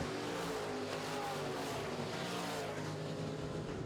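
Midwest Modified race cars roaring around a track during a heat race, a loud continuous blend of several engines revving together with a race announcer's voice faintly mixed underneath.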